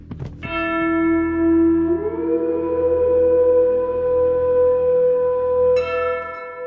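Bells ring with a sustained, resonant metallic tone that swells and holds for several seconds, then a fresh strike brightens the sound near the end; loud and clear, no talk.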